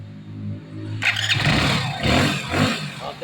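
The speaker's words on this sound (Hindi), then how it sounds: "तो दोस्तों बाइक इग्निशन ऑन है और अब आपको सेल्फ मार के दिखाते हैं।" A Hero Splendor BS6 motorcycle's electric self-starter whirs and cranks, then the engine catches and revs in a loud close burst after a brief steady hum from the switched-on ignition.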